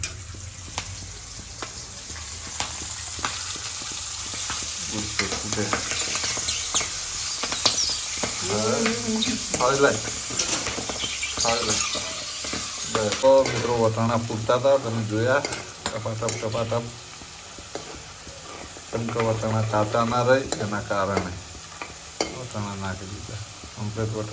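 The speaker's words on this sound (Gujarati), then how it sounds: "નાખી દીધા વટાણા કેમ કે વટાણા શેકાઈ જાય" Green peas roasting in an oiled pan with asafoetida, a close, steady sizzle with repeated scraping stir strokes, while people talk intermittently over it.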